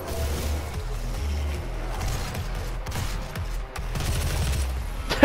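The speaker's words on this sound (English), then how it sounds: "Just shot him two times with a shotgun and a machine gun right in the face." Rapid bursts of shotgun blasts and machine gun fire in DOOM (2016), loud and dense, with heavy low booms and crackling impacts running continuously through the whole stretch.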